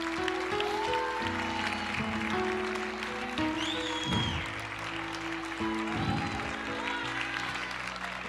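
A church congregation claps and cheers during a lively worship moment, the applause blending with sustained music tones that rise and fall throughout.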